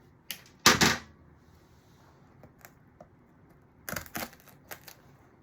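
Scissors or cutters snip through a piece of decoration for a whimsical Christmas centerpiece, making a few quiet, crisp clicks and snips separated by pauses.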